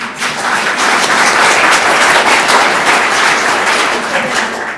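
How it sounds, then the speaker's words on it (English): Audience applause at a Bennington town select board meeting, a steady wash of many hands clapping that holds evenly for several seconds before tapering slightly at the end. "You better hold your applause till later"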